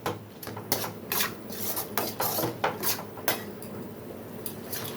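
Crispy mushroom fry stirred in a pan, with a spoon scraping and clinking against the metal in irregular, fairly close strokes over a soft background of frying.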